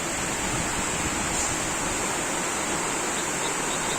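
Heavy pre-dawn downpour soaking an open field and pooling in standing water, a dense, steady roar of broadband hiss that stays constant and loud throughout with no pauses or voices.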